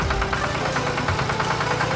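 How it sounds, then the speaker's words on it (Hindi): A tractor engine runs steadily while ploughing farm fields, a continuous mid-pitched rumble with faint rhythmic knocking, close and loud with no voices. "अपने खेतों में ट्रैक्टर से जुताई करता है"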